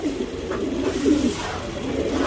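Tournament racing pigeons in a Bangalore loft coo steadily over a soft, continuous murmur, several low throaty calls overlapping at close range with no talk.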